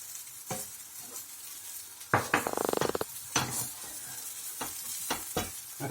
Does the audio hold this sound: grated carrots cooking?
yes